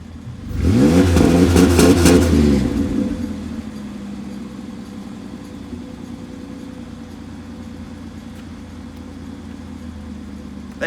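A lowered Ford Sport Trac's engine revs hard against an SCT X4 two-step limiter, giving a loud, rapid stuttering burst for about two seconds before settling back to a steady idle rumble, with no talking.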